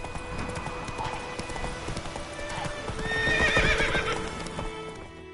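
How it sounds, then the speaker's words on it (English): Horse hooves clip-clop at a steady trot in The Witcher 3 video game, followed by a loud, close neigh and whinny, with game music and ambience underneath. "Whoa there, Roach"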